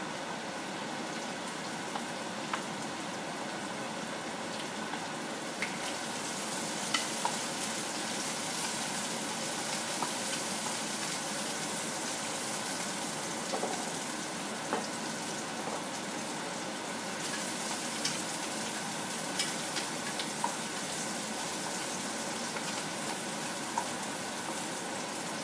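A steady, dense sizzle of chili and garlic frying in hot vegetable oil in a pan hisses on without pause, with faint crackles and no voices.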